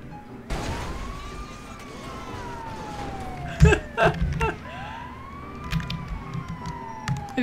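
Ambulance siren in the video game GTA V, wailing in long rising and falling sweeps over a steady low engine rumble, with a few sharp thumps in the middle.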